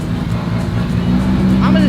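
A Toyota Supra engine revs hard on a dyno during a base power run, a loud, steady mechanical roar that builds in pitch over a couple of seconds, with voices briefly audible near the end.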